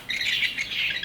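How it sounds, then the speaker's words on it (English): A bird calls with a continuous bright, high chirping trill for about a second, close and fairly loud, with no talk. "That's the bird, man, look."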